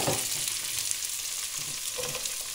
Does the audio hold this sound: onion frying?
yes